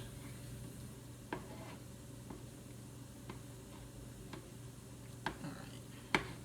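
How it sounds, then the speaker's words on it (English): A spoon stirs cream cheese into melting butter in a pot on the stove for beef stroganoff, giving faint, sparse scrapes and soft taps over a low steady background hum. "I'm going to put the spoon in there, and we're going to get this cream cheese melted in."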